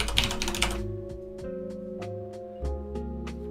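Crisp, separate clicks from a loud mechanical keyboard: a quick flurry of keystrokes at first, then scattered single taps spaced out over steady music playing underneath.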